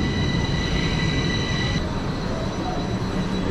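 A Bucharest subway train in Romania rumbles steadily at close range, with a broad, constant roar and a high whine that holds before cutting out partway through while the rolling noise carries on.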